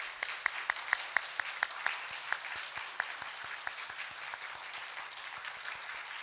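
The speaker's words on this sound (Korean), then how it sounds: "우리 박수 한번 하도록 하겠습니다." A Sunday church congregation at a Korean Methodist church in Augusta claps for fathers on Father's Day, starting with a few sharp, distinct claps that blend into moderate, fairly soft applause.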